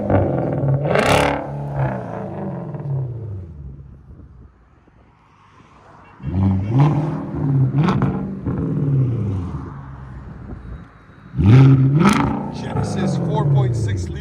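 A naturally aspirated 4.6 liter V8 in a Genesis sedan revs up three times from a quiet idle, each burst rising and falling loudly and close, with a near-silent lull between the second and third.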